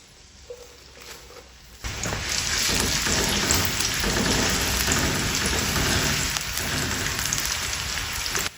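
Radish leaves hit a hot pan over high heat and break into a loud, steady sizzle and crackle that holds for several seconds, following a quieter lead-in.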